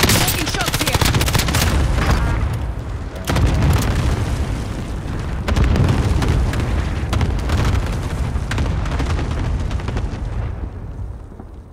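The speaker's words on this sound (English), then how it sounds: "Allied precision airstrike." Allied precision airstrike explosions in a video game, a dense barrage of heavy booms and rolling blasts that continues loud and near throughout, with repeated sharp impact bursts and no break.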